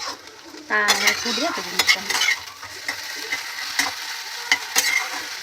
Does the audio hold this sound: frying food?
yes